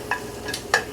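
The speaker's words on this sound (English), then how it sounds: "So I can hear it sizzle a little, so that means it's actually heating up." Chicken frying in a hot pan for drunken noodles, with a low steady sizzle broken by a few short, brighter bursts of stirring or spatter, close and fairly quiet.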